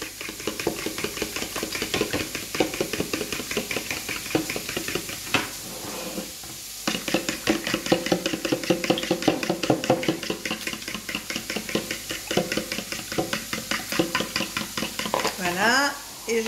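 Milk being stirred little by little into a cooking mixture, with steady scraping and stirring strokes against the pan over a faint sizzle, continuing throughout with brief pauses.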